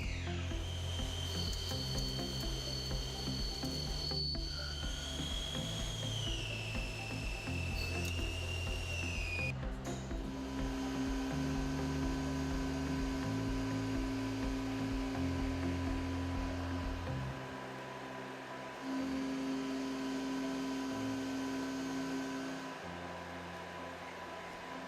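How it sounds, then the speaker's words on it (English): KNUTH PickCell PC 20i CNC vertical lathe hums and whines with servo tones as its hydraulic 3-jaw chuck and handling unit unload finished parts and pick up new ones, faint mechanical shifts and a soft clunk over steady machine drone. "From the hydraulic 3-jaw lathe chuck with a diameter of 210 mm, finished parts are deposited in the workpiece storage and the new parts are picked up."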